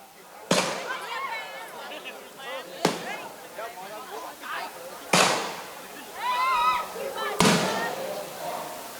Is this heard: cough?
no